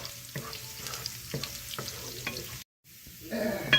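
Garlic toasts in a pan of oil for vegetable lumpia, a soft, steady sizzle with faint stirring scrapes, a brief drop to silence, then the frying crackle returning a little louder.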